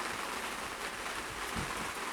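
Rain begins falling over an open field at Pornichet, a dense, steady hiss of drops that stays even and fairly loud throughout, with no voices.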